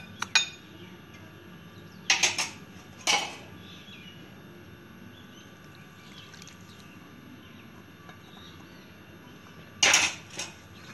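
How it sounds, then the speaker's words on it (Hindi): A spoon stirring mustard oil into ground spices for a homemade mango pickle, with a few scattered clinks and scrapes against a metal bowl separated by quiet pauses. "और तेल को भी मसाले के साथ अच्छे से मिक्स कर लेंगे हम"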